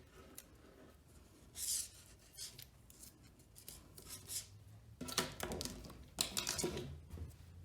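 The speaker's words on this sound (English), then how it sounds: "Cut off this extra here, tape it." Wire being snipped off a wire sculpture of a weasel, a few quiet close clicks and snips scattered among soft handling and rubbing sounds.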